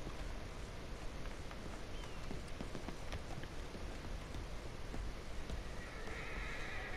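A horse whinnies in a Western-style multiplayer video game, heard over a steady wash of outdoor ambience with faint hoof and rustling sounds, no talk over it.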